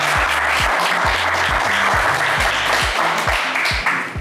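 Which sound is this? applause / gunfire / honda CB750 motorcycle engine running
applause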